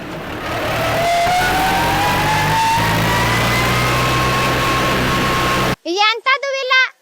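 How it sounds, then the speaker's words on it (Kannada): A Tempo OX-45 tractor engine runs steadily with a rising whine, loud and close, then cuts off abruptly as a voice briefly speaks. "ಗಾಡಿದು ಸೌಂಡ್ ಕೇಳಿಸ್ಕೊಳ್ಳಿ ಟ್ರ್ಯಾಕ್ಟರ್ ತರ ಸೌಂಡ್ ಬರಲ್ಲ ಒಂಥರ ಡಿಫ್ರೆಂಟ್ ಆಗಿ ಬರುತ್ತೆ"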